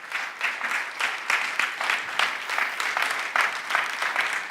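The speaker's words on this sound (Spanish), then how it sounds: "un aplauso a todos ellos" Congregation clapping during a church service, a steady wash of many hands with rhythmic surges, fairly close and continuous throughout without voices over it.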